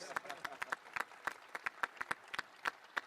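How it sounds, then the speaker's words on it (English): A few people clap sparsely and unevenly in a room during a Maryland press conference introducing a new basketball coach, a dozen or so distinct, separated claps rather than full applause, with faint voices in the background. "who's clapping for science?"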